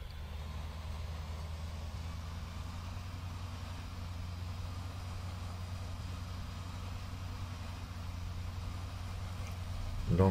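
A small tractor engine in a farming game mod runs steadily at low pitch, a continuous near idle-like drone that stays even in level and swells slightly at the very end.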